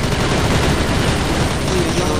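Gunfire in the Crossfire shooter game keeps up a loud, continuous rattle of automatic fire for the whole short stretch, dense and unbroken at close range.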